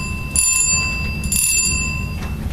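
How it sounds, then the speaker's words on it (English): A doorbell rings twice, bright metallic chimes with a lingering tone, over a low steady background rumble. "when I rang the doorbell, I got another surprise."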